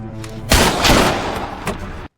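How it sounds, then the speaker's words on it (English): A sharp, loud blast erupts after a tonal lead-in, followed by a rumbling, echoing tail and a second fainter crack before abruptly cutting off. "But suddenly, a gunshot is heard."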